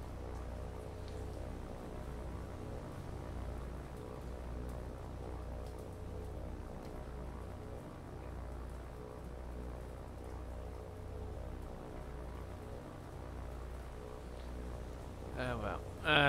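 Steady rain in the naval video game War on Sea, a continuous even hiss that holds at one level throughout, with a brief louder burst near the end.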